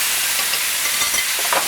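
Shrimp in a marinade hitting a hot frying pan with a steady, close sizzle and light stirring crackle, with no one talking.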